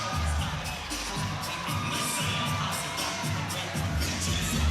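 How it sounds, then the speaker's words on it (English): A crowd cheers and roars at a basketball game between the Airs and the Saints in the closing seconds of the fourth quarter, a continuous wash of voices with rising swells, heard from within the arena. "The crowd loves it."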